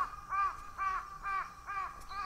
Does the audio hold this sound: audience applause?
no